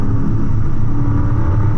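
Porsche Panamera hybrid sedan in hybrid mode accelerating on a track, heard from inside as a steady, loud low engine and road rumble that holds evenly throughout with no talking.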